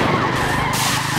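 A kart drifting in Mario Kart Tour, a brief, loud, continuous skidding screech over engine hum.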